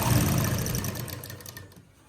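A sewing machine runs steadily while stitching a slit in a garment, a close mechanical whir that slowly fades and stops near the end, with no talking.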